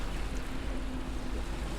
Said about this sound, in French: Le petit bateau vrombit et heurte les vagues.